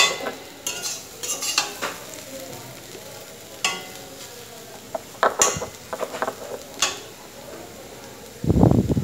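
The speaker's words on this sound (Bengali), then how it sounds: "আলুটা ভাজা হয়ে যাচ্ছে।" Potatoes frying in a pan, with a low, steady sizzle under scattered spatula scrapes and clinks of utensils against cookware; a louder burst of clatter comes near the end.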